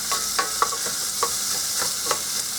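Onions cook in oil in a pan for Spanish rice, producing a bright steady sizzle, with soft stirring clicks recurring every half second or so.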